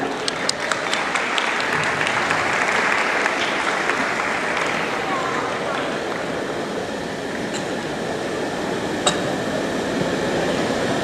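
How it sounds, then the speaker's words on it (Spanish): A school community gathered at Colegio Abel Bravo breaks into sustained applause, a dense crowd of clapping hands that holds steady for several seconds, with a few sharper claps and brief voices poking through. "un fuertísimo aplauso de toda la comunidad del Colegio Abel Bravo"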